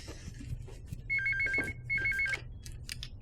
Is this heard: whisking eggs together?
no